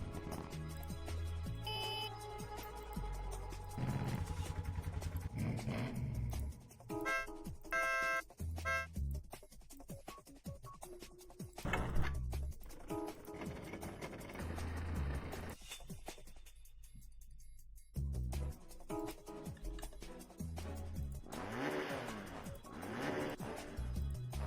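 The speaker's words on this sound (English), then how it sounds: "The engine revs." Kart engine revving in the Nightmare Kart video game, rising and falling engine tones mixed with game effects and music, fairly quiet overall.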